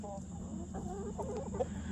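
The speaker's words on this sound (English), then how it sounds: "These are some of the chickens we have down here." Several farm chickens of mixed kinds clucking nearby, soft repeated clucks over a low steady background hum, fairly quiet.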